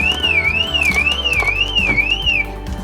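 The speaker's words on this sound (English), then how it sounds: "I keep the alarm turning on." A Porsche Cayenne car alarm shrieks close and loud, a rising and falling electronic tone cycling about five times before it cuts off, leaving a lower engine-like hum beneath.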